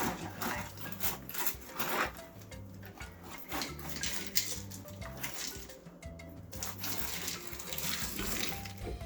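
Milk pours into a bowl of cereal with a faint, continuous splashing and trickling that rises and falls in small surges, quiet and close.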